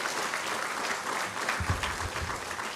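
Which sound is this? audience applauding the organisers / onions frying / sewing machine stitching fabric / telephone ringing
audience applauding the organisers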